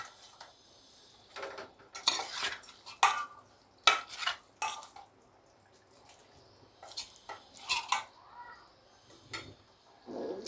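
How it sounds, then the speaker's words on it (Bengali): Pieces of katla fish slide into a simmering yogurt curry and get stirred, with a series of sharp clinks and scrapes of a utensil against the pan in irregular bursts, close and moderately loud, no talking. "এবার এর মধ্যে আমি মাছগুলো ছেড়ে দেবো।"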